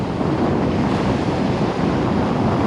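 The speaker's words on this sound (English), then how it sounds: "And it's a windy day." Strong wind buffets the microphone on a beach at Playa del Carmen, Mexico, mixing with the steady wash of surf for a loud, unbroken roar with no voices.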